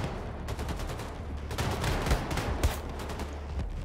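Gunfire from both sides in a Wolfenstein: The Freedom Chronicles DLC firefight, a dense continuous burst of shots with several louder cracks around the middle, loud and busy with no speech.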